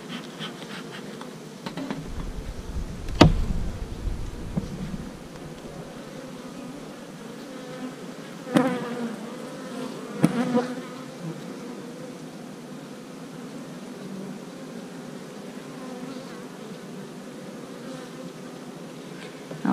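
Honeybees buzz over the frames of an open hive, a continuous low drone of many insects at close range, with a few sharp knocks and scrapes of the frames breaking through and no talk.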